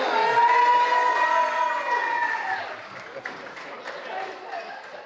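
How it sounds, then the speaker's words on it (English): Applause and cheering from an audience at a Center Parcs quiz prize-giving, loud and dense at first then thinning into scattered claps and shouts, with voices mixed in. "Round of applause for"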